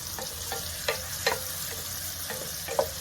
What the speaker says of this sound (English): We're gonna sweat our garlic and our onions.